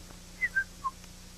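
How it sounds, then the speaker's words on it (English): A person whistles a few notes of Jingle Bells, three short clear tones in quick succession, faint and close against a quiet hum, with no talking. "what are you whistling about? Jingle bells."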